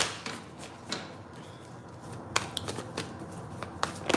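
Tarot cards being shuffled by hand, with quick papery flicks and rustles and a few sharper slaps as cards slip out of the deck, close and fairly quiet over a soft room hum.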